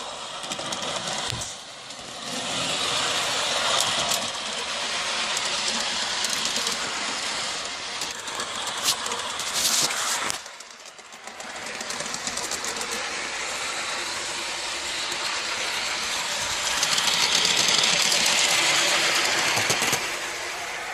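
A G scale James the Red Engine model train runs on track with a steady mechanical whirr and light rhythmic clicking, fairly close, dipping briefly in the middle before continuing.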